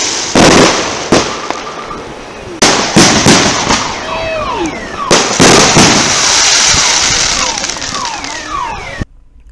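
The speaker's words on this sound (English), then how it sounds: "there was so many fireworks in the street going on" Fourth of July fireworks bursting in a residential street, loud and close: repeated sharp bangs and crackling volleys layered with whistling rockets, continuing densely throughout.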